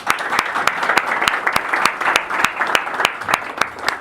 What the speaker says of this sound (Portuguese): Então, um aplauso para a equipe Chácara Digital.